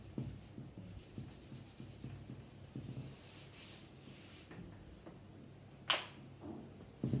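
Soft, faint scratching and tapping of writing on a board, in short irregular strokes with one sharper tap near the end; no voices.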